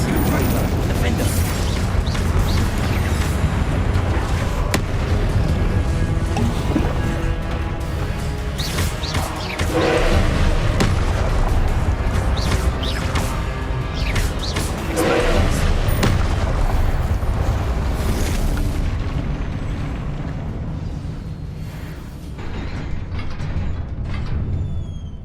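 Spell attacks and explosions in the Hogwarts Legacy video game, loud and dense, with booming blasts, clanking mechanical impacts and crashing hits piling on top of one another through a long, chaotic battle, with voices speaking over the action.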